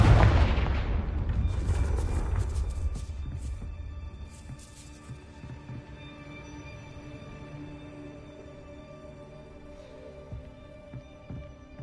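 Confringo blasting spell exploding in Hogwarts Legacy, one loud booming blast that rolls and fades into a long reverberant tail with scattered debris crackles.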